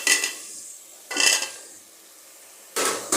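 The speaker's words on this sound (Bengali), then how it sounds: "আমার মশলাটা একটু কষানো হলে তারপরে আমি সুন্দর করে আমি এখন আলুগুলো দিচ্ছি।" Cut potatoes going into a pot of beef curry, heard as three short bursts of clattering and scraping separated by near silence, close and loud with no talking.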